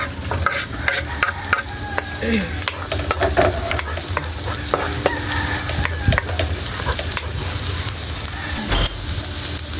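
Onions frying in a pan for sardines with pechay, a loud dense sizzle under constant clattering spatula strokes, close up, with a rooster crowing faintly somewhere in the background.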